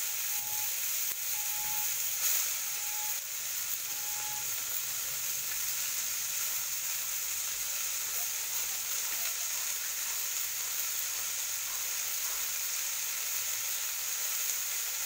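Bathua greens and green chillies frying in a pan, with a dense, even sizzle that holds steady and close throughout. Faint clicks of stirring come through now and then, and no one speaks.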